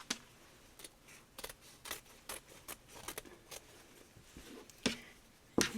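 Scissors snip through paper for a mini album cover made from a Little Golden Book, a series of faint, irregular close-up cuts with quiet pauses between them.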